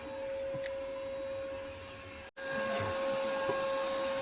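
A vacuum running to suck water out of garden irrigation lines on an automatic solar watering system, a steady droning whine with a sharp constant tone, briefly cutting out for an instant before resuming, heard at moderate distance outdoors.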